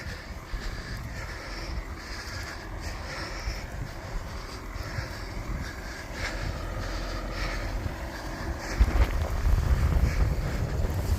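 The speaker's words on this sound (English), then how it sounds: "The wind was coming hardcore from the southeast." Strong wind buffets the microphone during an April snowstorm, a steady roaring gust that builds louder near the end, with no talking.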